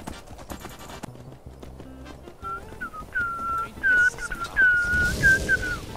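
A horse trots down a road in the Skyrim video game, with hollow clip-clop hoofbeats under a melodic whistled tune, moderately loud and close.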